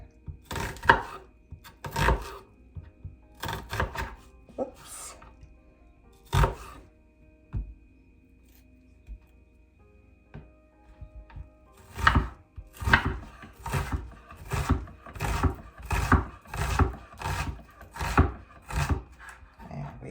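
A knife chopping an onion on a wooden board in a home kitchen, sharp irregular cuts at first, then a pause and a faster run of steady, rhythmic chops close by.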